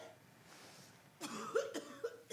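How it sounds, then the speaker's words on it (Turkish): A woman coughs several times in short bursts, fairly close, after a quiet stretch. "Ablam çok fena öksürüyor."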